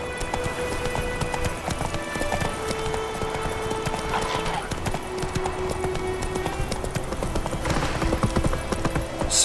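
Horse hooves clip-clop at a steady trot throughout in the video game The Witcher 3, close and continuous over a bed of game ambience and tonal music.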